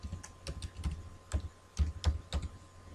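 Keystrokes on a computer keyboard, a brief burst of about a dozen close, light taps in an uneven typing rhythm over a quiet background hum.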